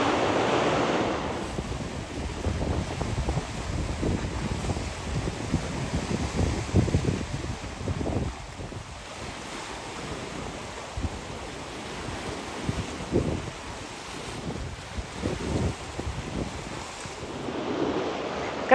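Sea waves wash onto the coast at Foros in Crimea, a steady surf roar under wind buffeting the microphone, rising and falling in broad swells with no one talking.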